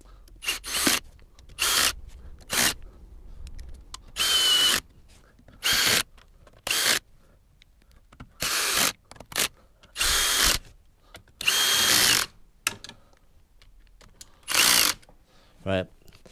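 A power tool tightens the Dr Pulley slider bolts on a Royal Alloy GP300 scooter in repeated short bursts of buzzing drilling and ratcheting, a dozen or so close, loud spurts separated by quiet pauses.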